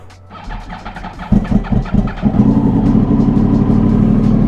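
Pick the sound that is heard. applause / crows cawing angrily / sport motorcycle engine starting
sport motorcycle engine starting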